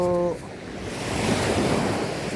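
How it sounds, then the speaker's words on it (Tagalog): Strong sea waves break on a beach with a steady roar of surf and wind buffeting the microphone. A short tonal blip opens the clip, and the wash builds slightly louder toward the end with no speech. "kusog ang balod gamay"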